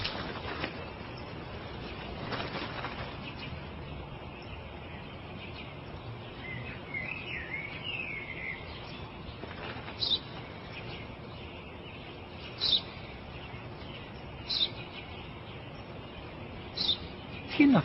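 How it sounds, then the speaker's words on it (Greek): Small sparrow chirps come faintly through a steady outdoor hiss, with a few brief louder knocks spaced apart. "Ένα σπουργίτη είναι, πατέρα. Ένα σπουργίτη."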